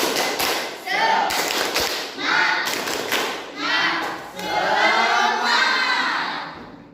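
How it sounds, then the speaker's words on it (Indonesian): A class of students performs a rhythmic spirit clap, claps and thuds in patterned bursts mixed with children's voices chanting together in a classroom, lively and close. "Tepuk semangat."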